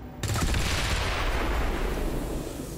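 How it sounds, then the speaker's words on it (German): A loud burst of weapon fire in the video game XCOM 2 erupts after a brief quiet start, then a sustained roaring rumble and crackle that slowly fades, close and dense, no speech. "Waffe abfeuern."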